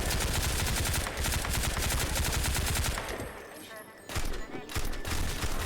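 Rapid gunfire bursts crackle loudly in a virtual reality shooter game, dense repeated shots that pause briefly before resuming, with a voice speaking over the action.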